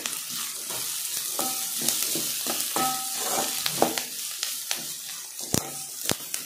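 Onions sizzle and crackle in hot oil, with sharp clinks of a spoon stirring the pan at irregular intervals, close and loud.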